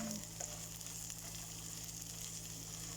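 An onion browning in a frying pan sizzles steadily and softly, with a constant low hum underneath and no voices.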